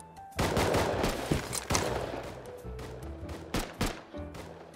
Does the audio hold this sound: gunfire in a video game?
yes